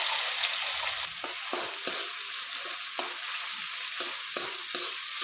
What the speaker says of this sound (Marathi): हे व्यवस्थित आता परतून घेऊयात आणि त्यामध्ये आता आपण पालक हिरवी मिरची लसूण अद्रक यांचं केलेलं वाटण टाकून घेऊया